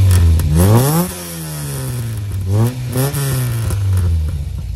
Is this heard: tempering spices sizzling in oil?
no